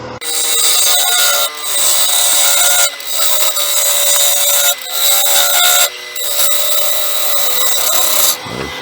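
A wood lathe running at 1100 RPM while a gouge hollows out a bowl, giving loud, bright scraping and cutting noise in long sustained passes broken by brief pauses, with no talk.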